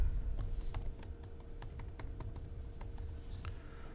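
A name for a new stock chart list is typed on a computer keyboard: a string of quiet, close, irregular key clicks over a low room hum.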